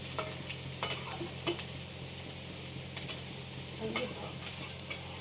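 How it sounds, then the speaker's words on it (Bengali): Thinly sliced onions fry in a pan with whole garam masala, a steady close sizzle broken by repeated scraping and clinking strokes of a spoon stirring against the pan. "আর এখানে পেঁয়াজ ভাজা হচ্ছে"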